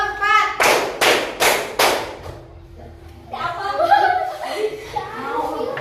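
A primary school class claps four times in a quick counted rhythm, crisp and close, followed by a brief pause and then children's chatter and light laughter.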